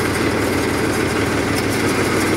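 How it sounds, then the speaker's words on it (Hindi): Diesel engine of a Mahindra 265 DI tractor, fitted with a single lever, running at a steady, loud, unbroken drone close by with no voices. "देखो, ये ट्रैक्टर है महिंद्रा 265 DI।"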